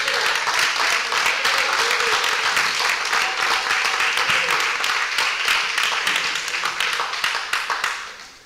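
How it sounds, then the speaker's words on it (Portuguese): A church congregation claps their hands together in praise, producing a brisk, crowded clatter of many palms that stays strong for most of the stretch and then fades away at the close. "e glorificar a Deus com palmas."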